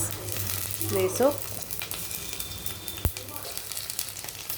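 Onion, cloves, cinnamon and curry leaves sizzle in hot oil in a pan for a palya. The frying hiss is steady and close, with a short burst of voices near the start and a brief clatter partway through.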